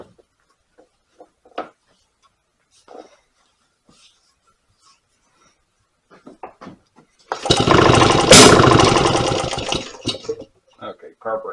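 Antique 1924 Maytag Model 82 washing machine gasoline engine bursting into a loud, rapid popping run for a few seconds before fading, close by, after a stretch of quiet tapping and soft speech, with talk resuming at the end.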